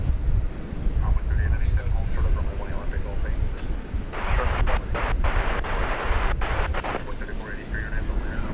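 A United airliner bound for Denver takes off from a runway at DFW Airport. A loud, broad jet roar builds and fills the scene, with a harsher burst midway, while voices murmur underneath.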